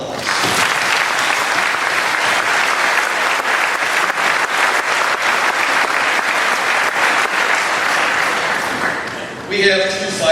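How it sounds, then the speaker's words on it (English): Sustained, loud applause from an audience at a 2016 high school scholarship awards ceremony, steady dense clapping filling nearly the whole stretch before tapering into a brief voice at the end. "Let's just give them a round of applause."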